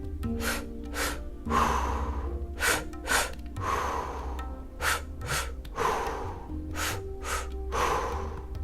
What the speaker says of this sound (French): On expire en expulsant fortement l'air des poumons, en contractant la cage thoracique, tout en relâchant vigoureusement ensuite le diaphragme.